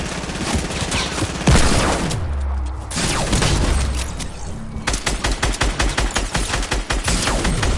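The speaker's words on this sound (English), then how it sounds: "you're shooting the wrong person" Gunfire in a Fortnight-style creative 1v1 video game match: a heavy blast and booming shots, then a rapid rhythmic burst of automatic fire in quick succession, loud and close.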